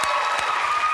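Studio audience cheering and applauding steadily throughout, a dense continuous wash of claps and crowd noise.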